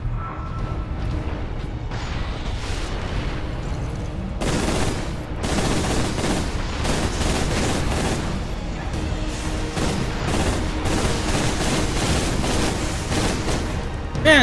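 Heavy volcano cannon fire in the Space Marine video game, a sustained run of booming blasts and mechanical clatter that surges loudly, with a dense barrage after the first few seconds and a final thump at the end.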